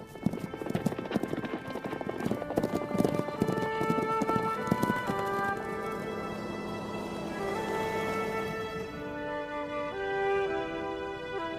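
Horses clip-clopping steadily through a long-distance race, hoofbeats dense and close at first and easing into a softer, more distant rhythm, with an occasional whinny and a sustained tonal layer running through.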